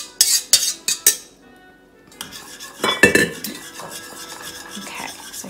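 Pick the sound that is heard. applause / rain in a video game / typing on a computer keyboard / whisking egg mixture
whisking egg mixture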